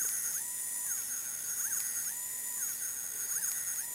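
A steady high-pitched electronic whine with repeating rising and falling warbling tones from a Supernatural replica EMF detector prop, like a small buzzing gadget, continuous and fairly faint.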